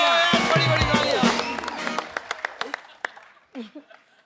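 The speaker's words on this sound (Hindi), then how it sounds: "बड़ी बड़ी तालियां।" Studio audience at a television comedy show claps and cheers loudly, the applause thinning into scattered individual claps and fading out, with a voice talking over the start.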